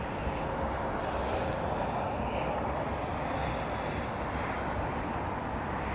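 An airliner takes off at London Heathrow Airport, a loud, steady jet roar that fills the whole stretch with some wind rush and no voices.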